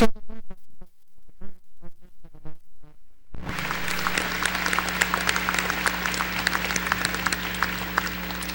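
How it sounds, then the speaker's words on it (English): A commencement ceremony crowd bursts into loud, sustained applause after a few seconds of spoken announcement over the PA, with dense clapping filling the large hall to the end. "Please join me in one more round of applause for the Show Me Gold program and the presentation of colors"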